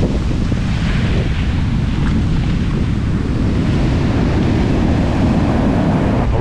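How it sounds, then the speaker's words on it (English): Ocean waves roll onto the beach at Nazaré, Portugal, a continuous loud surf roar heavily mixed with gusty wind buffeting the microphone, with no voices. "Look at those waves."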